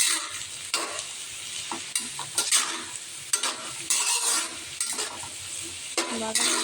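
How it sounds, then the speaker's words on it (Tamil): Food sautéing in a pan with a steady sizzle, repeatedly stirred and scraped by a spoon in irregular strokes, close up and without talk. "இப்போ பார்த்தீங்கன்னா நல்லா கிண்டி வச்சுருக்கோம்."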